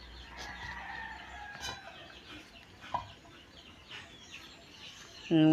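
Chickens cluck and squawk in the background, with a short crow-like call partway through, fairly quiet amid outdoor ambience and ending in a louder burst.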